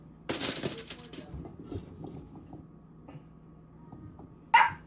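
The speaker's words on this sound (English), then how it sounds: "this dog, I promise you, he was not barking before I turned this camera on" A dog barks indoors, one loud close burst at the start and another near the end, with softer shuffling and low household noise between them.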